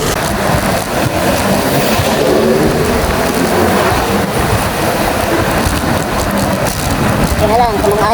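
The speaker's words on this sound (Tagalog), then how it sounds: "Sana mawala na itong ulan na ito." Steady, dense rain hiss fills the whole clip, loud and close, with a low rumble underneath and a voice speaking faintly in the background.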